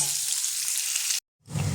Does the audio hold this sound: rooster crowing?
no